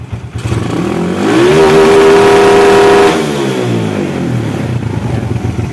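A Suzuki Smash 115 motorcycle engine, cold and without a silencer, idles, then revs up hard and holds steady at its rev limiter for a couple of seconds before dropping back to a rough idle.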